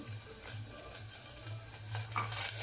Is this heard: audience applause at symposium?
no